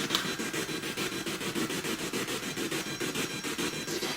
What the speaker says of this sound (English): It's just purely white noise with the odd interference sound.